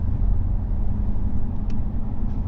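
A car drives along a snowy residential street in Menominee, Michigan, its steady low engine and road rumble continuous and close throughout, with faint light ticks near the end and no talking.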